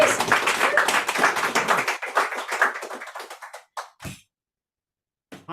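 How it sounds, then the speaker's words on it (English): An audience applauds the poet Don Paterson at a reading event, a full round of clapping that thins into a few scattered claps and dies away, with silence at the end. "So big round of applause"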